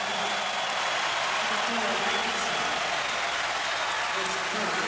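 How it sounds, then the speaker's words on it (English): Dense, loud roar of a large basketball crowd celebrating inside Williams Arena, the year's biggest home crowd, cheering and clapping in a steady wash of noise that fills the arena without a break. "the fans, the largest crowd of the year at Williams Arena, start the celebration"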